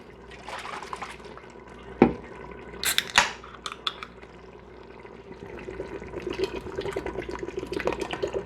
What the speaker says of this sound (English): Now it's really boiling in there.